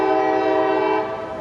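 Light engine locomotive sounding a loud, sustained horn chord near signals at a railway junction, steady for over a second before easing slightly.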